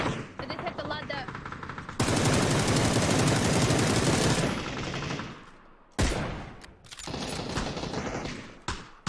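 Close-range automatic gunfire in a PUBG-style shooter erupts in loud sustained bursts, with rapid full-auto sprays, brief pauses and renewed volleys, crowding out everything else for most of the span.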